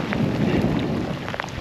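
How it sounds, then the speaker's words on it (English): Heavy tropical rain pours steadily on a boat at a Christmas Island bonefishing flat, a loud dense hiss with scattered drop impacts and no pauses, and nobody speaks. "It's pouring. It's been raining for over an hour."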